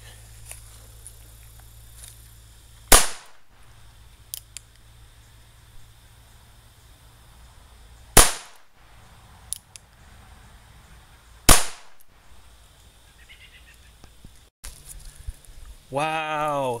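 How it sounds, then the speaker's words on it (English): Three sharp reports from 22LR standard velocity CCI rounds fired at a duct tape vest, spaced several seconds apart over a quiet outdoor background with a brief voice at the end. "This is 3 rounds of 22LR standard velocity CCI."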